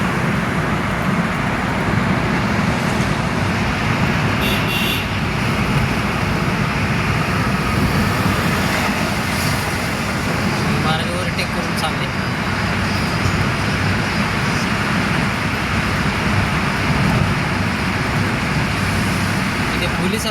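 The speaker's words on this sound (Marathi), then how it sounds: "हा स्पीड आहे 50, 60, 70च्या वर टनलमध्ये गाडी चालू नका" A car cruises through a road tunnel on a drive from Guhaghar to Mumbai, with a constant loud roar of engine and road echoing around it while someone talks over the noise the whole time.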